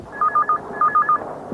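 Telephone being dialed in a 1990s Hindi drama scene, two quick clusters of three loud, clear tone beeps each, close and alone with no talk.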